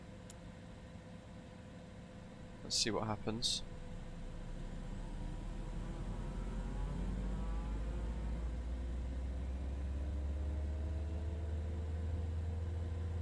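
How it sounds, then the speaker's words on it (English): Right jet engine of a Cessna Citation X spooling up in the FS2024 flight simulator: a brief sharp chirp and whine, then a steadily rising turbine tone over a deepening rumble that swells and holds loud. "engine start."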